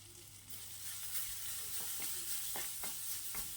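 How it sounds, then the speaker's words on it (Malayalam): Onions sautéing in a pan for a Malayalam brinjal (vazhuthananga) dish, a steady hiss of frying with a few sharp scraping stirs of a spoon near the end, no talk. "ഇതാ സവാള നന്നായിട്ട് വഴന്ന് വന്നിട്ടുണ്ട്"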